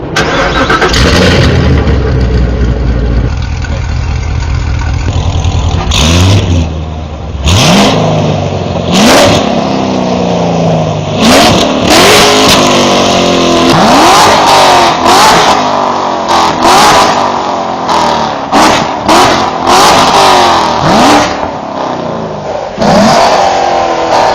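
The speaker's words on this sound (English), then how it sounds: "So what do cook headers, an X-pipe, and an MPP exhaust give you? It gives you this." Modified C7 Corvette Stingray with Kooks headers, an X-pipe and MPP exhaust starts up and revs repeatedly, loud and close, with sharp throttle blips rising and falling over a rumbling idle.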